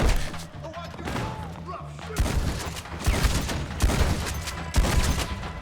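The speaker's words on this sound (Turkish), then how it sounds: "pompalı mermisi yiyorsun" Shotgun blasts ring out during a firefight in the video game Red Dead Online, a series of loud, booming shots at irregular intervals over a low, rumbling game soundscape.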